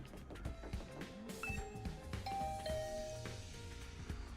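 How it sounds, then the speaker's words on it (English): A doorbell in The Hundred Line Last Defense Academy rings with bright, clear chime tones, a few notes sounding over a soft musical background. "I rang the doorbell to Tsubasa's room."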